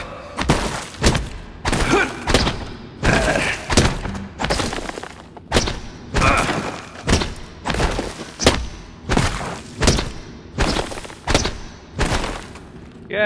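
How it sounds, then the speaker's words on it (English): A glue cannon is taken apart in the video game Prey, heard as a steady series of heavy mechanical thunks and clanks, each one punchy and close, repeating about once per second. "Let's go ahead and dismantle this here glue cannon while we're at it."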